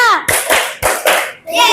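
Schoolchildren in a classroom do an ice-breaking clap game, with a few sharp, rhythmic group claps. Young voices chant between the claps, close and loud.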